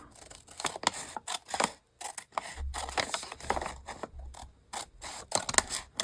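Scissors snip through fabric during sewing of an accordion pocket, a string of close, crisp cuts in short bursts with brief pauses between them.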